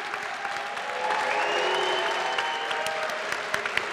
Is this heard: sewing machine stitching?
no